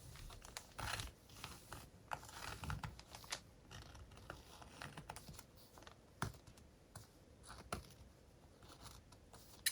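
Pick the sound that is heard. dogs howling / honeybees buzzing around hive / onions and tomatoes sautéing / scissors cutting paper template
scissors cutting paper template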